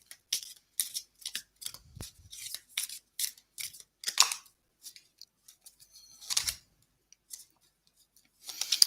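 Tarot cards shuffled by hand in a series of quick, crisp riffling and snapping bursts, fairly close, with short pauses between handfuls and no talking.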